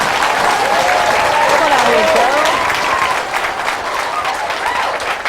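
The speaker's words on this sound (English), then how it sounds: "How about a big round of applause for Carol Mulliger?" Game-show studio audience applauding a contestant, loud continuous clapping with a host talking over it and rising, swooping music underneath.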